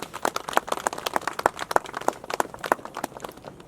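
A congregation claps in steady rhythm at a funeral service, the crisp hand claps close and fairly regular, several per second, with no talk over them.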